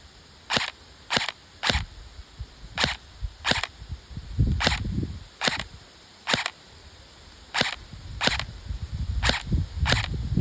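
A Novritsch SSE-18 airsoft rifle fires single semi-auto shots outdoors, about a dozen sharp, loud cracks at uneven intervals, with wind rumbling between them.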